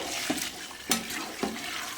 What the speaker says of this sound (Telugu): అందుకని నీళ్ళు పోస్తున్నా